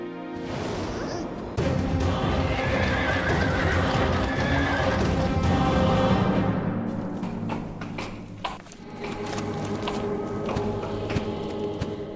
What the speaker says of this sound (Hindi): ये घोड़ा कहाँ से ले आए किसना?